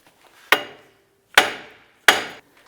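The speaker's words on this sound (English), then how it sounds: "keep working the hub like this until you can get it separated from the knuckle" Three sharp hammer blows ring out at uneven intervals as a front wheel hub on a 2006-2011 Cadillac DTS is worked loose from the steering knuckle, each strike close and loud with a short decay.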